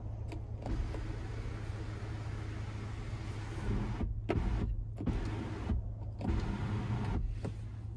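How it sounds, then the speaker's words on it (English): The power sunroof of a 2024 Hyundai Santa Cruz slides open with a steady electric motor whir over an interior hum, rising slightly and stopping and starting in a few brief bursts. "there we have the power sunroof, so we can tilt or slide that back one touch"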